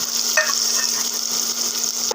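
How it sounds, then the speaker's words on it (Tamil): Onions sautéing in hot oil for a tamarind okra curry, a steady bright sizzle with a faint utensil scrape partway through, close and continuous. "வெங்காயத்தையும் நல்லா வதக்கிக்கலாம்."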